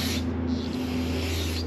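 Continuous hissing spray of cleaner from an aerosol can onto an engine part of a 1968 VW Camper, loud and close, steady for the whole moment under a low background hum.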